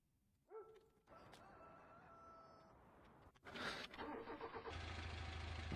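Old car engine turning over and catching in Farming Simulator, a short cranking burst followed by the motor settling into a steady, fairly loud running drone with some clatter.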